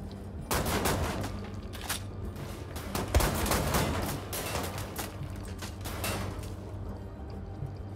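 Sustained gunfire from Wolfenstein: The New Order, a dense volley of rapid shots with booming impacts over a steady low drone, loud and close throughout before thinning out near the end.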